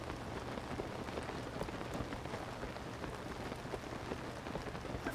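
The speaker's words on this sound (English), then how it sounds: "I forgot it was raining" Rain falls continuously in Zelda: Tears of the Kingdom, a thick, even hiss of drops striking surfaces with a faint low rumble underneath, unbroken throughout.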